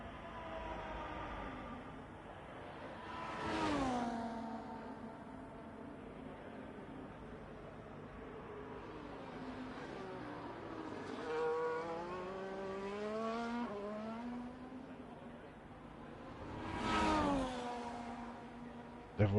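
Race cars circle a track in Qatar while warming their tyres, engines rising and falling in pitch as each one sweeps past, with three distinct loud pass-bys over a steady background hum.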